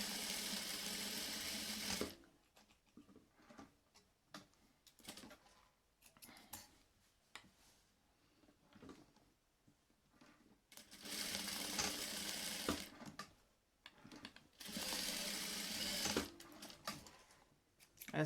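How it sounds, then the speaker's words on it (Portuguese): Sewing machine with a presser foot stitching closed the two side seams of a fabric cat-shaped door stop, sounding in several loud bursts of rapid mechanical whirring separated by quieter pauses with small handling clicks. "E aqui eu vou costurar com um pé de máquina"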